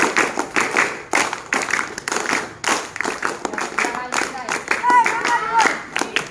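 Children clap in unison during a counting game, a series of crisp, evenly spaced hand claps close by, mixed with chanting children's voices.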